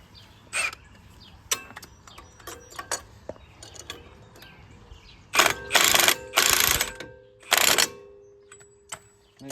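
Socket ratchet working a bolt on a Kioti tractor: short bursts of rapid metallic clicking, sparse at first then several longer louder ratcheting runs, close up in a quiet space.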